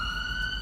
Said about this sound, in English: We trying to wait for the siren to go by.